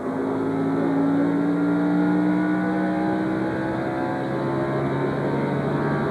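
NASCAR Busch Series race cars roar around the Milwaukee Mile oval in 2001, a dense, continuous engine drone with rising and shifting pitch as several cars pass at full throttle, loud and steady throughout.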